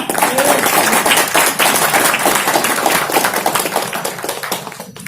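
An audience at a business meeting in Kolkata claps loudly in a dense, continuous burst of many hands that stays strong and then trails off near the end.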